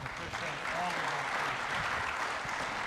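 Steady, even applause from a city council meeting audience honoring police officers, a dense wash of clapping at moderate distance that holds level throughout.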